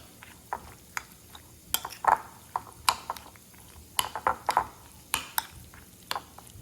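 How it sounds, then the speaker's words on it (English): A spoon stirs salt into onions sauteing in a pan for eggplant choka, a run of close, crisp scraping clinks at an irregular rhythm over a faint low sizzle, with no voices. "And while my onions are sauteing, I'm gonna add some salt."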